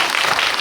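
Steady, dense audience applause at a film festival audience talk (Bucheon International Fantastic Film Festival screening Q&A), a brief continuous burst of many hands clapping close and loud with no talk.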